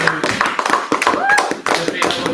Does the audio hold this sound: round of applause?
yes